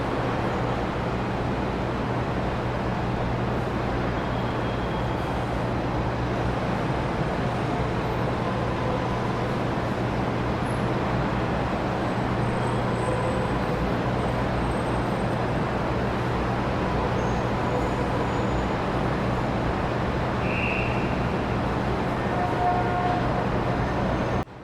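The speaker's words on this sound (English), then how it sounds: "The tires grind against the gravel, each turn a delicate balance of power and control." An oversize heavy-transport truck climbs a gravel track under load, giving a steady, far-off low engine drone and broad rumbling road noise that continues evenly without breaks.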